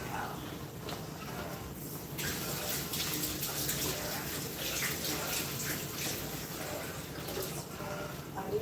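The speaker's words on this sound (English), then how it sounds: "And then we need some rinse now" Water runs steadily from a kitchen tap while something is rinsed, a continuous close splashing rush that stays even in level throughout.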